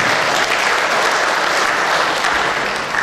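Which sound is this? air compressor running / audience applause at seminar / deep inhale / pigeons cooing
audience applause at seminar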